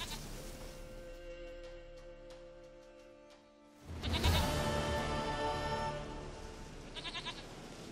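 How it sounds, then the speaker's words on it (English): Goat bleating in the video game The Witcher 3: Wild Hunt, several drawn-out bleats over soft game ambience, followed by a louder, busier stretch of sound near the end. "Goat of mine, dearest, sweetest goat."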